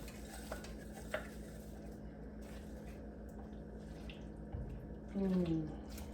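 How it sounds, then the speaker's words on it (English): Vegetables going into a simmering homestyle chicken stew pot: a low, steady bubbling hum with a couple of light clinks, then a brief louder squelching splash as they drop in near the end. "Now what I'm going to do is I'm going to put my vegetables in"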